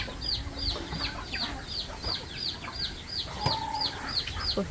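Chickens and ducks kept at a rural Thai home cluck steadily in a repeating rhythm, with occasional louder calls, close by over a constant outdoor background.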